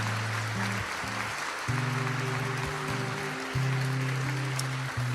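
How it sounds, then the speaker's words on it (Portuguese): A church congregation applauds in a steady wash of clapping that runs throughout, layered over sustained organ or keyboard chords played underneath. "Você pode aplaudir o Senhor essa noite"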